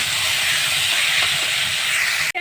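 Soybean pieces fry in a pan while being stirred: a steady, fairly loud hiss and sizzle runs throughout, ending in a brief sharp knock near the end.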